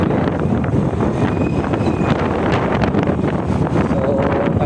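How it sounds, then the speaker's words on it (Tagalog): Strong wind buffeting the microphone on a Honda motorbike ride, a loud, continuous roaring rush with gusty fluctuations, and a faint engine whine underneath. "So, kaya may ganun lakas ang hangin."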